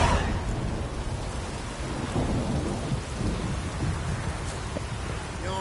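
Heavy rain pours steadily in The Witcher 3: Wild Hunt, with low thunder rumbling through the downpour. The storm sounds close and dense, and no one speaks.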